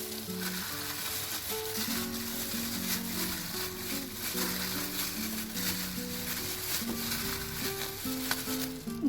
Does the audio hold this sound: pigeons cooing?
no